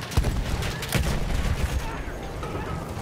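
Battlefield 1 gunfire, with bursts of rapid shots and distant booms crackling on and off against a constant battlefield roar, a voice faintly mixed in.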